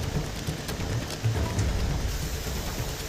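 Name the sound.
heavy rain falling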